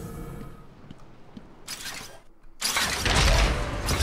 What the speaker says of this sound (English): That's one hell of a secret door, a hidden door.